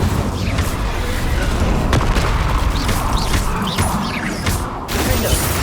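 Hogwarts Legacy Incendio fire spell cast in combat, a sustained loud roaring burst amid thuds and crashes of battle running through the whole stretch, no voices over it.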